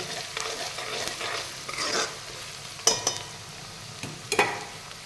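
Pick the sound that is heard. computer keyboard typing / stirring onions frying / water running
stirring onions frying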